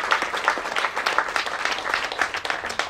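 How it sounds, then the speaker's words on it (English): Applause from an audience at a school heritage center dedication, a sustained, dense patter of many hands clapping close by, with a faint voice underneath. "Let's give them another round of applause"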